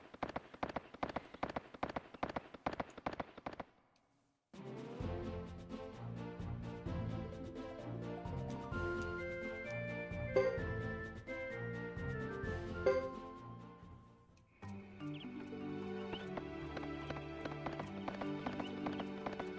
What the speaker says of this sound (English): And now I have a horse. Oh my, horse is fast.